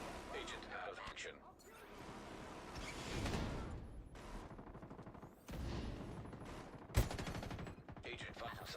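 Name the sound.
minigun fire in The Division 2 video game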